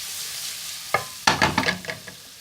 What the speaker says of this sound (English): So that's nicely sizzled.